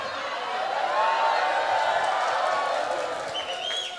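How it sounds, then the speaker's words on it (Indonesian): Audience applause at a humorous religious lecture marking the Prophet Muhammad's birthday (Maulid) forms a steady, even wash of clapping from a crowd that neither swells nor fades. "Ngono ya tepuk tangan"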